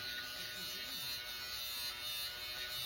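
Electric fabric shaver buzzing steadily as it trims fuzz from frayed threads, a faint, even motor whine held without a break, close by and alone.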